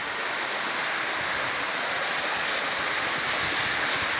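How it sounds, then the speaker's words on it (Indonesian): A river waterfall runs with low flow, water pouring out beneath a rock in a steady, loud, broadband rush with no breaks. "Ini airnya keluar lewat bawah ya. Lewat bawah batu."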